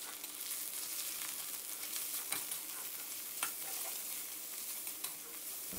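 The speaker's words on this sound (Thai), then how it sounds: "ให้เราผัดหมูเราให้สุกเลยครับ" Minced pork and sliced onion are stir-fried in a pan, a faint steady sizzle broken by light scraping and tapping of the spatula, with no talking.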